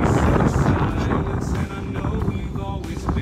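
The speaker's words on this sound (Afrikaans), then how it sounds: "so sorry vir die wind wat so 'n bietjie waai" Gusty wind buffets the microphone at Fisantekraal Dam during a fishing outing, a steady, loud roaring rush that surges and eases without letup for the whole stretch.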